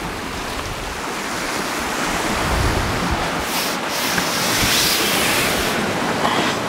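Strong wind gusting steadily beside open water, with waves washing and surging close by and heavy buffeting across the microphone throughout, no voices.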